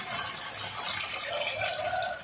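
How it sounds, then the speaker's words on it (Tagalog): Water poured into a cooking pot of shrimp and seasoning, a steady close splashing gush lasting about two seconds without pause. "Lagyan natin ng tubig."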